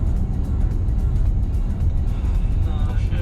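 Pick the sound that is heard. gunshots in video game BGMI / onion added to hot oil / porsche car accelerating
porsche car accelerating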